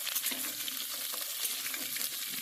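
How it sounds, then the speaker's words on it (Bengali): Pointed gourd (potol) frying in a little oil in a home kitchen pan, a steady close hiss and sizzle with light stirring scrapes throughout, no voices. "প্রথমে অল্প তেলের মধ্যে পটলগুলো দিয়ে প্রায় মিনিট তিনেক মতো ভালো করে একটু ভেজে নিতে হবে"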